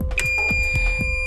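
A homemade optoelectronic light-sensor alarm built for a Halo Harp sounds steady electronic tones with a rapid repeating pulse, loud and close, with no talking.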